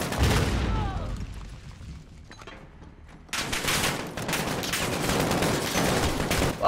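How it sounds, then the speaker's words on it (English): Grenade blasts and rapid gunfire in the Call of Duty Modern Warfare campaign, a loud boom followed by a lull and then sustained bursts of automatic fire, with voices shouting over the combat. "Dude, you're throwing grenades."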